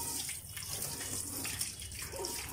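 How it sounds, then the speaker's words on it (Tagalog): Water runs steadily from a tap during washing, a soft continuous splashing hiss at low level. "Hindi, patuloy mo yung tubig, ah."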